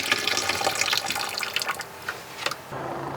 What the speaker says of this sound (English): I'm going to start opening my cold side, getting the antifreeze to pull through, moving over to my hot, waiting for that nice pressurized stream.